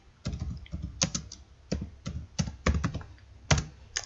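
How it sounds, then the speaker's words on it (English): Typing on a computer keyboard into a search box, a close, irregular run of soft key clicks and thunks with brief pauses between strokes. "So I'll just go here to the search box and type in ebook cover"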